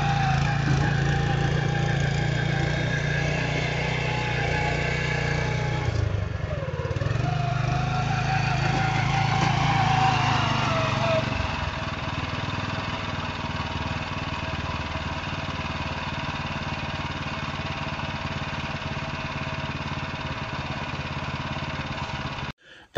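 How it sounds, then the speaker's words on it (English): A core aerator machine runs over a red clay lawn with a steady, droning engine and a mechanical rattle. It is loud and continuous, its tone shifts partway through as the load changes, and no one speaks. "They did core aerate the yard."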